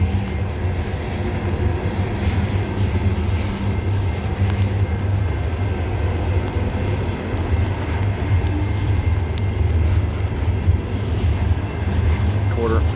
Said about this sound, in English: Yeah, train's entering the tunnel.